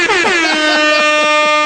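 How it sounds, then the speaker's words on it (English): A single loud, sustained blast of an air horn, its pitch settling quickly and holding steady to the end. "Oh, that's an air horn."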